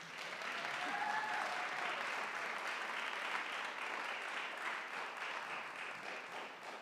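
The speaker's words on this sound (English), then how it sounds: "Another round of applause," A jazz concert audience applauds steadily for a soloist, a dense wash of clapping that holds for several seconds and tapers slightly at the end.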